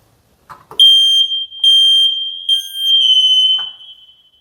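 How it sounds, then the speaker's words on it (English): A smoke alarm under test sounds a piercing high-pitched alarm in a few loud, close beeps that merge into a longer continuous tone, with faint clicks before and after. "checking on your smoke alarms"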